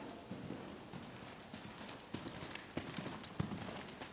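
Horse hooves thudding in a canter during a riding lesson, soft rhythmic beats on arena footing, quiet and somewhat distant with faint background noise.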